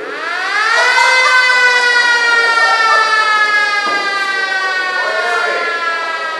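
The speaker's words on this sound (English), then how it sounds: "In the event of a fire, you will hear a loud siren blast from the corner of the stage here." A loud fire alarm siren blasts from the corner of a ceremony stage, wailing steadily for several seconds, its rising tone holding strong with faint rumbling underneath.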